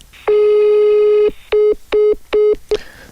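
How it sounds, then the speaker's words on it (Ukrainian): A telephone call tone sounds as one long steady beep followed by a series of short, evenly spaced beeps, loud and clean with no voices. "Телефонуємо ще раз."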